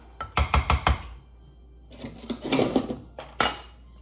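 A spoon stirs and clinks against a glass or pitcher while white rum and coquito ingredients are mixed, a quick run of sharp close knocks, a pause, then a burst of scraping, sloshing clatter and a final clink.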